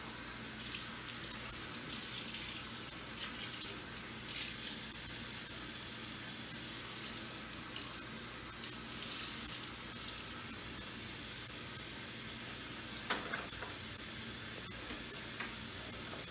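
Steady running water from a tap, a continuous broadband hiss with a couple of brief clinks near the end.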